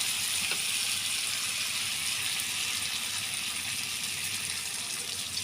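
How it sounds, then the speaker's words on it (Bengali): Water poured into a pan of dried fish and drumstick curry, a steady hissing gush running evenly and fairly faint throughout with no talk. "আমি এখন এটাতে পানি অ্যাড করে দেবো"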